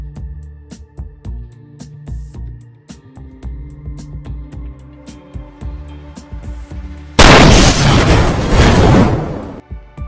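Rapid, regular gunfire from a Warthog vehicle's mounted guns in Halo 4, steady sharp reports that end in a loud, sustained roaring blast lasting several seconds.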